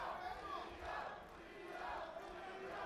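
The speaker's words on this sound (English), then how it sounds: "Gio's fans are chanting Gio, Gio, Gio." Boxing fans in an arena chanting the fighter's name Gio in rising and falling waves, a crowd roar heard at a distance under the general hall noise.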